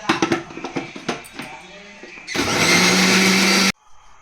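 A few clinks and light knocks come first, then a kitchen mixer whirs loudly for about a second and a half, grinding bread into a paste before cutting off abruptly.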